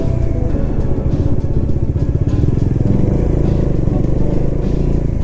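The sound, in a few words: Honda 350 motorcycle riding on hill road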